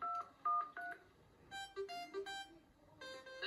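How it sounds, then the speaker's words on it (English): Phone ringtones chime in a kids TV show, a series of bright electronic beeping melodies in short bursts, one tune after another, with no talk. "it soon turns out that all the other High Five presenters have changed their ringtones"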